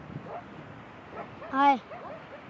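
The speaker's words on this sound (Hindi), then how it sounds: "कुत्ते मेरे को देख के भौंक रहे" A dog gives a short, yelping bark with a whiny rise and fall, fairly close, amid quieter yips and soft background voices.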